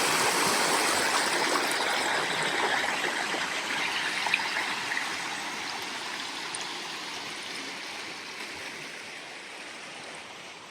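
Steady broadband rush of the Owenalondrig River flowing beneath a tight, steep downhill road bend, a continuous near stream sound with no talk, easing slightly in loudness over time.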